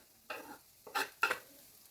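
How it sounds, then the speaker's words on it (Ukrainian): Short sizzling bursts from onion and carrot frying in a pan, three quick hissing surges close by, with quiet gaps between them and no talking. "Нарізану цибулю відправляємо у сковорідку, нехай смажиться."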